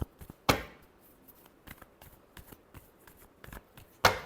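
Tarot cards being shuffled during a love reading, with a sharp riffle burst near the start and another at the end, and soft scattered card taps and flicks in between, close and fairly quiet.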